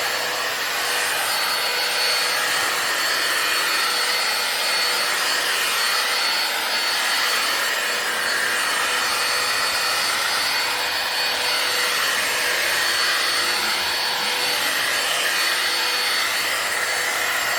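A Bissell Powerlifter ION Pet stick vacuum runs continuously over a rug, giving a steady, loud motor whine and airy suction rush with faint swells as it sweeps back and forth, with no voices.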